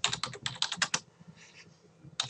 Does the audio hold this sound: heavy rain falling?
no